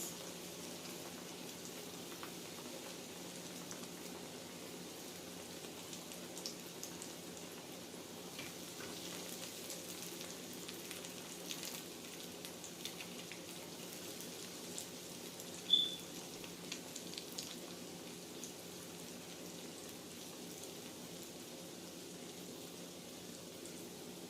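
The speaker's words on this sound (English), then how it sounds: "I like to fry them hard." Small fish pan-frying hard in hot oil, a soft, steady crackling sizzle with scattered pops, fairly quiet and continuous throughout.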